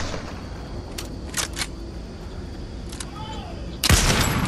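Gunfire in the video game Fortnite, a few sharp shots spread through the clip and a louder burst near the end, heard under a faint background bed.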